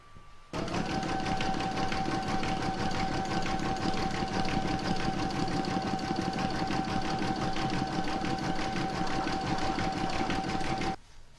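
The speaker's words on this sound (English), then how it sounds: "pop that in my machine and stitch round number 4." An embroidery machine stitches an in-the-hoop cat scissor keeper with a steady, fast mechanical whirring and rapid needle clatter. The sound runs continuously and fairly close for about ten seconds, then stops abruptly.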